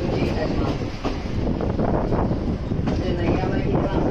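A Thomas the Tank Engine-themed locomotive train bound for Iiyama Station rumbles steadily along the rails, a dense low roar with rhythmic clatter, while a voice announces over it in Japanese.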